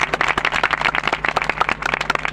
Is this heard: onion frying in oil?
no